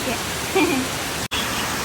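Heavy rain with wind in Kerala gives a constant broadband hiss that continues throughout, briefly cut by a sharp dropout near the end, with a voice speaking over it for a moment.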